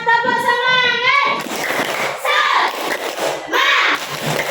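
A class of schoolchildren performs a rhythmic spirit clap, with loud chanting voices in unison broken by bursts of clapping in a lively classroom.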